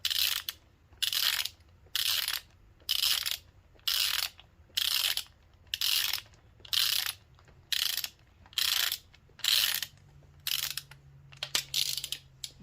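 A ratchet torque wrench clicks steadily in about a dozen regular bursts as oil squirters are tightened to 12 foot-pounds inside a 1.8L turbo Miata engine during a rebuild; the clicking is close and clear, with no talking.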